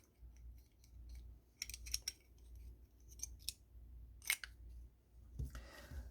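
A small cutter with a safety cover snips through bead-stringing wire or cord, several quiet sharp clicks and snips, close and isolated against a low hum.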